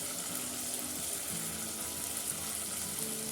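Tomato, coriander and ridge gourd sauté in a hot pan for a thecha relish, with a continuous close sizzle and crackle and no talking.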